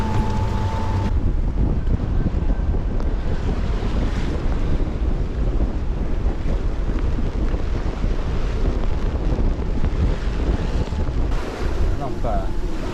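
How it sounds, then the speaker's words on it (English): Steady roaring wind of a nasty squall on a sailboat beating to weather in a near gale around 27-28 knots, loud and unbroken with buffeting on the microphone and rushing water beneath throughout. "Nasty squall."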